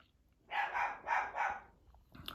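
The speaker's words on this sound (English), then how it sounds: "Well, there's my dog barking at somebody." A dog barks three times in quick succession at middle distance in a quiet room, each bark full and evenly spaced, followed by a faint shorter yip.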